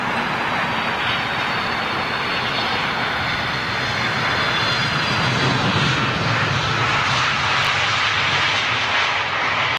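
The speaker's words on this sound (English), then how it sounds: "Here's the 757, folks. Ah, she's a beauty. With her winglets, sharklets, should I say. Rolls-Royce RB211 turbofans." A Boeing 757 powered by Rolls-Royce RB211 turbofans roars steadily at an airport, a loud, broad jet rush that holds for the whole stretch, with no one talking.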